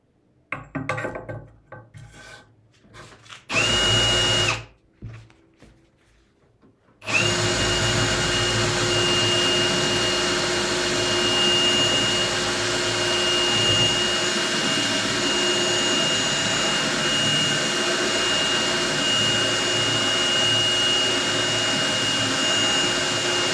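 An angle grinder with a 60-grit disc meant for paint grinds a steel pipe: a few short, uneven bursts, then a loud, continuous, close whine with a steady high tone that carries on for over fifteen seconds.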